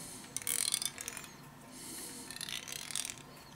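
A CoilMaster coil winding jig being turned by hand, with bursts of light clicking, ratcheting mechanical noise in two short spells, close and fairly quiet.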